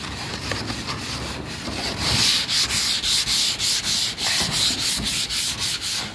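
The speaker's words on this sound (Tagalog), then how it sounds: "hindi po steel brush ang gagamitin kundi liha na pino" Steady rhythmic rasping of fine sandpaper rubbing back and forth, close and loud, with regular strokes repeating for several seconds.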